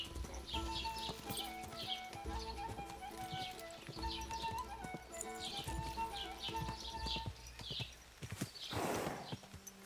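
A horse in the video game Kingdom Come Deliverance 2 clip-clops steadily with clear, close hoofbeats, then gives a loud whinny near the end.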